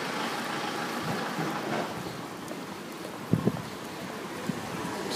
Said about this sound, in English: As the rain starts,